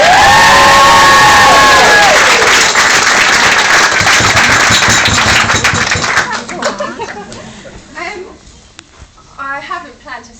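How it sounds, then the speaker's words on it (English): A room of wedding guests claps and cheers for the bride during the reception speeches, loud sustained applause and whoops that fade after about six seconds into scattered clapping and murmuring voices. "Put your hands together once more for the bride!"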